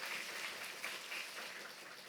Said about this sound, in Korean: 잠깐 일어나시면 우리가 큰 박수로 맞이하겠습니다